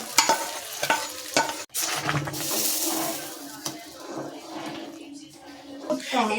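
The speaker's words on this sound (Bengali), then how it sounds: "তড়কা।" Tadka for sambar dal, with mustard seeds, dried red chillies, curry leaves and a pinch of asafoetida, sizzles and crackles in hot oil, steady and close, while a utensil stirs and scrapes the pan.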